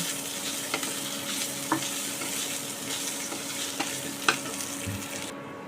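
Ginger-chili paste frying in hot oil with asafoetida tempering for a mixed winter vegetable ghonto, a steady close sizzle with occasional stirring clinks.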